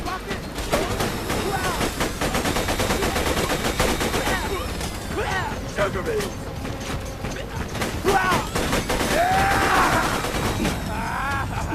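Gunfire from the video game Borderlands 2, rapid bursts of shots crackling steadily through the whole stretch, loud and dense, with players talking over it.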